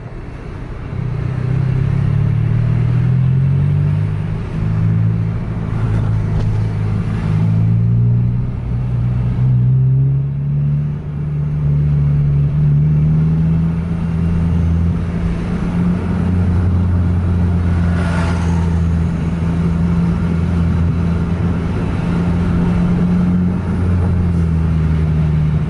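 Scania trucks racing and overtaking on a road at night, their engines droning loud and close in a continuous low rumble with rising and falling pitch as they accelerate side by side.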